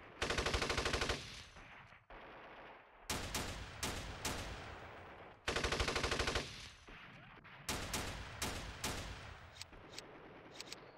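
Gunfire in the Steel Panthers wargame in an Iran-Iraq war 1980 battle: two long rattling machine-gun bursts, each followed by a cluster of sharp separate shots and impacts, loud and alone.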